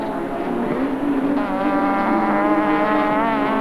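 A race car engine roars close by, its pitch rising and shifting as it drives past at speed during a 1991 street car race at Baskerville Raceway, Tasmania.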